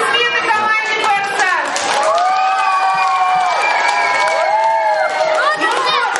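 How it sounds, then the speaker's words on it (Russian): A crowd at a camp counselor initiation cheers and shouts loudly for a team, with high children's voices and clapping, continuous throughout. "Аплодисменты команде"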